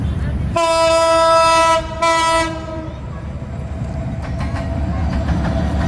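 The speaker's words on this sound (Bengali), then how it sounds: "আর পাশেই ট্রেন" A train passing beside the lake at Laksam Junction blows a long, loud horn in two blasts, then its rumble and wheel clatter carry on as it moves by at close range.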